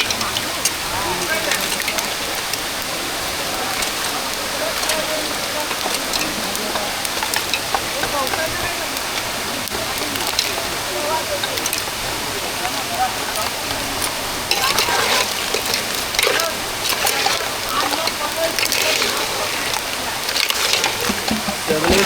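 Crabs simmer in a spicy ground-masala gravy cooked outdoors in the jungle, a continuous crackling sizzle and bubbling hiss that stays steady and close throughout.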